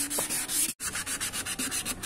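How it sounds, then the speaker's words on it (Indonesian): Sandpaper rubs up and down on a yellowed, dull car headlight in quick rhythmic strokes, a close gritty scraping that stops briefly once before resuming. "Sekarang kita melakukan pengamplasan secara vertikal, yaitu ke atas ya."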